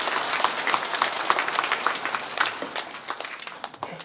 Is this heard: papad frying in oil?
no